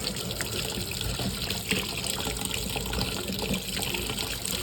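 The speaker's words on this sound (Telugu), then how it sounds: "చన్నీళ్ళు వేసుకున్నాం కదా ఇందులో" Cold water poured over boiled shark pieces in a pot makes a steady, close splashing and gushing stream of liquid, moderately loud and unbroken, with no voices.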